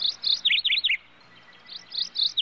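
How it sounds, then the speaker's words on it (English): A small bird chirps in quick, high, close bursts, two clusters of sharp tweets separated by a short pause. "while the sound of the bird is quite feeble."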